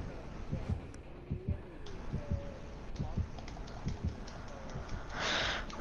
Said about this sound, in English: instead of like really high pitched music, like it is in Friday the 13th, you hear a heartbeat.